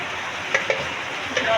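Bay leaf, cinnamon and black whole spices frying in hot oil in a pan for beef nihari, a steady close sizzle with a few small pops and utensil clicks.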